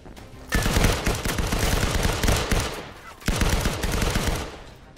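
Rapid bursts of automatic gunfire in a tactical shooter video game, loud and dense, firing in two long volleys separated by a brief pause.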